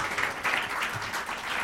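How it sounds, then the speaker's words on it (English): An audience applauds panelists at a college conference session, a dense, steady wash of many hands clapping at moderate loudness with no talking over it. "Please, a round of applause and thanks to our esteemed panelists."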